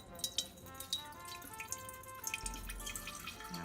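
Water running from a tap into a pitcher for homemade lemonade, a steady quiet trickle with small drips and splashes, close by and alone without talk.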